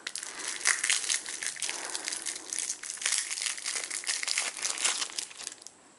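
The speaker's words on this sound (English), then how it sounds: "let's open up the stickers and the washi tape" Plastic packaging around stickers and washi tape being opened, a close, continuous crinkling and crackling with rustling handling, no talking.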